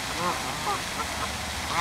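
Canada geese give a few short, nasal honking calls spread across the moment, fairly faint against a steady outdoor background hiss.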